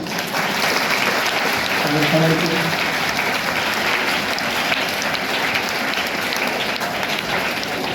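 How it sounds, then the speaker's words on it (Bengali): Sustained applause from a large crowd at a school Teacher's Day celebration, dense and steady throughout, with a brief voice rising through the clapping near the start. "তাদের জন্য খুব জোরে হাততালি হয়ে যান"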